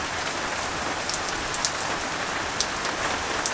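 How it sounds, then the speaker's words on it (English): Steady, heavy rain falls on a hard surface, a dense continuous hiss with occasional louder drops, close and unbroken, and no voices. "Just gotta wait for this rain to pass now."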